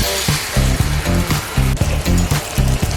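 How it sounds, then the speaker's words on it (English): A glass of water is poured into a cooking pan holding cinnamon stick, star anise, cardamom, cloves and lemongrass, giving a loud, continuous splashing rush with sizzle over a steady rhythmic pulse. "Add a glass of water"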